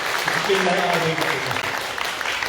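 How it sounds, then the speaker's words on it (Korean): A church congregation claps together in a sustained burst of applause while a voice speaks briefly over it. "우리 한번 축복하며 박수했으면 좋겠습니다"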